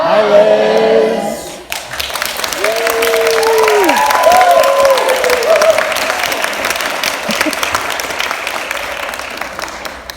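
A book-tour audience bursts into applause after a brief spoken greeting, the clapping and crowd noise swelling quickly and holding steady and loud for several seconds before easing slightly.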